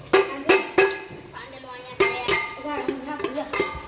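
A spoon scrapes and clanks against a metal cooking pot while a peanut bhajiya chaak dish is stirred, with sharp, irregular metallic knocks and scrapes spread through the stretch, and a voice speaks in between.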